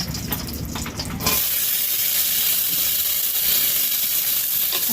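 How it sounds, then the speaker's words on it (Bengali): Ghee heating in a pan before frying cashews and raisins for halwa. A short clatter gives way to a steady, even sizzling hiss that carries on alone to the end. "তাই ঘি দিয়ে দিলাম, ঘিয়ে ভাজবো।"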